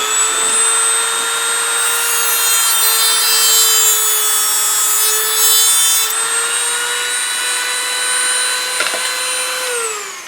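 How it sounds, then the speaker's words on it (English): A Dremel rotary tool with a cutting wheel grinds through a metal boot clamp on a Saab 9-3 XWD rear axle, a steady high-pitched whine with harmonics held for about ten seconds, close and loud, then a brief pitch drop at the end. "What I do is I just grab a wheel in the Dremel."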